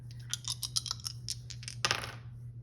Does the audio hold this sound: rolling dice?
yes